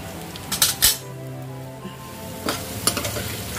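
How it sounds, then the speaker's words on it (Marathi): Mango pieces with turmeric and red chili being stirred in a hot pan: a continuous sizzle broken by sharp scraping and clinking bursts of the spoon near the start and again toward the end. "आता हे आपण व्यवस्थित ढवळून घेऊया।"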